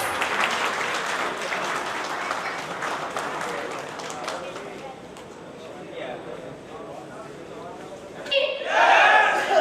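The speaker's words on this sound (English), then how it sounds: "Come on everyone, huge round of applause." Audience applause at an award and talent event, a steady wash of clapping over several seconds that eases slightly midway and then swells louder near the end, with some talk mixed in.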